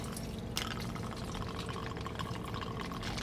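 Rum, 1.5 ounces, poured into a cocktail glass over cut fruit pieces while mixing a spicy pina colada, a steady splashing trickle heard up close and alone.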